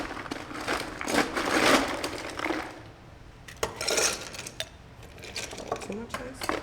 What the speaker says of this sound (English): We're gonna give this a stir with some ice.